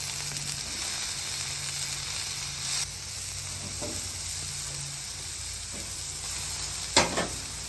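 Peppers and onions cook on a Traeger flat top griddle with a soft, steady sizzle and hiss, broken by a few sharp spatula scrapes and clicks near the end.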